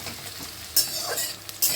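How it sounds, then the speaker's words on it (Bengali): Onions fry in a pan as ground spice paste is stirred in, giving a steady sizzle broken by a few sharp scraping clinks of a spoon against the pan. "এবার পেঁয়াজটা ভাজা ভাজা হলে আমি এই মশলাটা দিয়ে দেবো"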